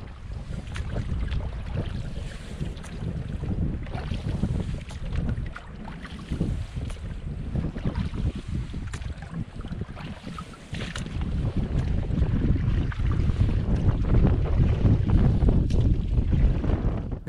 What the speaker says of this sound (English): It was now gusting to 20 miles per hour and I was paddling as well as getting blown along to the end of the loch.